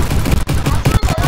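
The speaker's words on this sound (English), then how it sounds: "Other known as my shotgun, and he's gonna do some damage." Rapid shotgun blasts in the video game Bad Business, loud and dense with quick repeated shots packed close together, with faint game noise behind.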